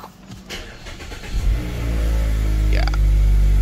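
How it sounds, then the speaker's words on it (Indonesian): A stock Mazda 3 fires up from cold, a starter crank followed by the engine catching and revving high, then settling into a loud, fast idle, heard up close. "Cold startnya Mazda ini cukup berisik."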